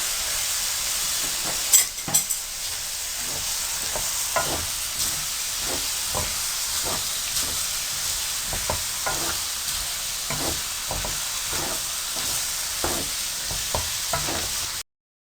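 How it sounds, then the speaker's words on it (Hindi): Tomatoes frying on high heat in a pan for an egg and potato bhujia, giving a steady loud sizzle throughout with repeated stirring scrapes and clinks, and no talking. "अब आप इसमें टमाटर डाल दें और तेज़ आंच पर 1 मिनट के लिए पकाएं।"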